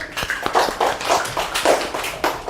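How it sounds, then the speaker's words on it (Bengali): Schoolchildren in a fourth-grade maths class clap their hands in a loose burst of rhythmic applause, several quick bright slaps repeating closely for a few seconds. "আচ্ছা ওর জন্য একটা হাততালি দাও।"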